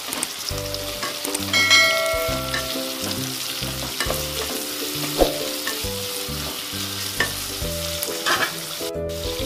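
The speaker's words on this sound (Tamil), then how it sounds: "வெங்காயத்தை நல்லா வதக்கிக்கணும்." Sliced onions and green chillies sauté in a pan for a parotta salna, with a steady sizzle broken by regular scraping strokes of a spatula and a few metallic clinks.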